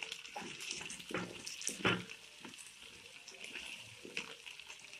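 Chopped ginger and garlic fry with golden potatoes in a pan, giving a close, bright sizzle with stirring bursts around the start and then a quieter, steady crackle.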